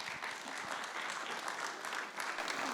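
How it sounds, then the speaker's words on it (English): Faint, steady applause from a gathered audience at a care-sector event, a short even patter of many hands without talk. "Please give Jeanette a round of applause."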